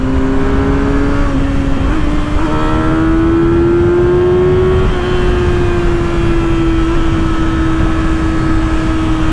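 A 2024 Kawasaki ZX-6R 636 sport bike roars along a highway, its engine note rising smoothly through quick-shifter gear changes with steady wind rush, loud and close.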